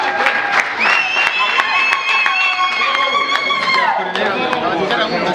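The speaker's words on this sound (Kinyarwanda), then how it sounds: "ngo mumwongere amashyi" An audience claps at an award event as the winner receives a prize, with scattered sharp claps, crowd chatter and a voice talking over it.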